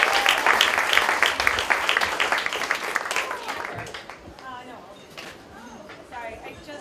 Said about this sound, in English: Give a big round of applause, please.